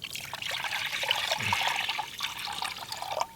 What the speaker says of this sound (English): I'll just add in our water, which should rehydrate that apple drink.